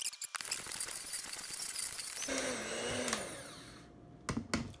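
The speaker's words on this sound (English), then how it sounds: "Now that we've got it all blended up" Kitchen blender whirring through homemade protein bar ingredients, a loud continuous motor drone that shifts pitch as the mixture thickens, then cuts off with a few brief clatters at the end.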